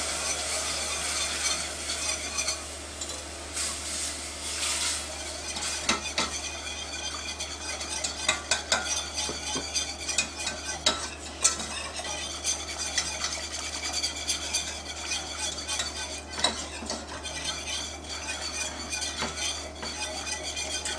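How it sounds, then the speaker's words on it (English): Whole milk is stirred into queso in a pot: a soft continuous scraping swirl with scattered light clinks of a utensil against the pot, fairly quiet and without talk. "We're going to slowly add and stir as we add."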